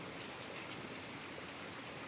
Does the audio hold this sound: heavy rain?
yes